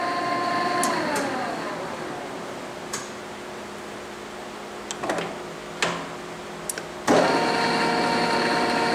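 Tominaga 5-foot by 17-inch radial arm drill press with its spindle running at 750 RPM in a quiet shop: a steady mechanical hum and whine with a few scattered clicks and taps, fairly close, no talk over it.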